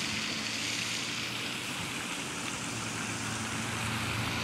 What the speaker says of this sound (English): Nice little water fountain.